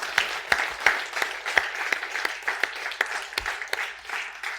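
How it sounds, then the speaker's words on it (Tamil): Scattered applause at a 200th episode celebration of a Tamil program in Coimbatore, with a few people clapping at a moderate, uneven pace and separate sharp hand claps standing out over a faint background. "ஸோ ஒரு பெரிய கைத்தட்டல் கொடுத்துடலாம்."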